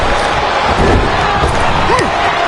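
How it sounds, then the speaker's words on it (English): Raucous arena crowd in the WWE 2K25 wrestling video game during a Cody Rhodes versus Gunther championship match, a dense, loud, continuous roar of cheering and shouting that fills the whole moment. "What a raucous crowd here tonight"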